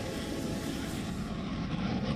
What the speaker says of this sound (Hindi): हवा में उड़ता ये सुखोई 1 सेकंड में ही 360 डिग्री पर घूम सकता है।